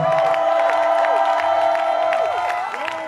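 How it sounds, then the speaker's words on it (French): A church congregation cries out for joy during a worship service, a loud, continuous wave of crowd cheering and whoops over sustained music. "Est-ce que tu peux pousser des cris de joie?"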